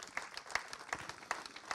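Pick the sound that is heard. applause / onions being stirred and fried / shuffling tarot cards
applause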